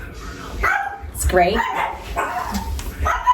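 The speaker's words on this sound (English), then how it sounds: "So pardon the barking dogs." Dogs bark and yip in short bursts indoors, close and fairly loud, while a person talks over them.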